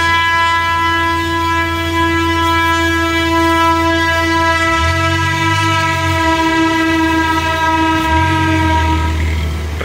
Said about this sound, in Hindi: ट्रेन भी चल गई